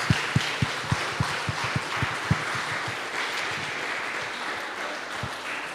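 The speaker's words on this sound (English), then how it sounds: "A round of applause for these guys." Scattered applause from a convention crowd at a horror film panel, with several distinct nearby claps at the start that settle into a softer, diffuse clapping hiss as it fades.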